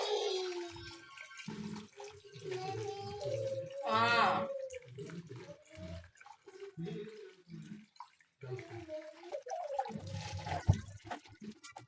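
Water sloshes and splashes close by as lentils are rinsed by hand in a vessel, intermittent liquid sounds mixed with someone talking over them.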